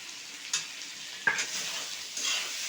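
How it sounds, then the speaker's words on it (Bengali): A spice paste with tomato and green chilli fries quietly in a pan, with a low sizzle and a few soft stirring scrapes and clinks spaced through the clip. "মশলাটা কষিয়ে নেব এখন আমি আমার টমেটোটাও দিয়ে দিচ্ছি টমেটো আর এই যে একটু কাঁচা লঙ্কা"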